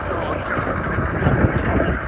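A 2025 GMC Sierra Denali's 6.6L Duramax diesel idles steadily just after a cold remote start, a low, even rumble mixed with outdoor wind noise.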